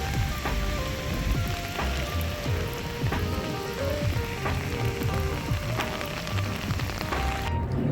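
Steady rain falls on a dark, rainy day along Hong Kong's Avenue of Stars by the harbor, a dense continuous patter of drops hitting hard surfaces with no voices.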